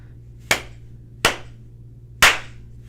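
Three sharp, evenly spaced hand claps sound close and clear over a steady low electrical hum, made to trigger a micro:bit clap-activated switch.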